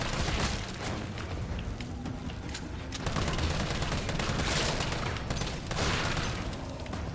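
Rifle fire in the video game Resident Evil 3, continuous rapid bursts of shots with booming impacts, dense and loud across the whole stretch without pause.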